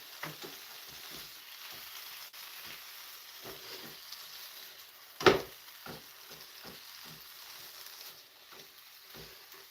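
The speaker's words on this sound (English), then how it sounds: "Just give those a quick sear." Taco-seasoned pieces are seared in a hot pan, a low steady sizzle with scattered stirring knocks and one louder clatter midway, heard alone without talk.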